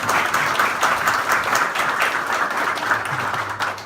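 An interview audience gives sustained applause, a dense, even wash of clapping that holds steady for several seconds.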